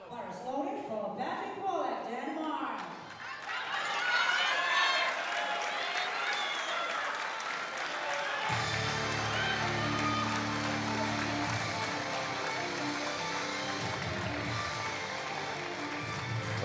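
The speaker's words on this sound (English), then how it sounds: "The crowd just got really loud." A crowd at a junior equipped powerlifting championship, swelling into sustained loud cheering and applause that fills the hall, while a commentator keeps talking over the roar.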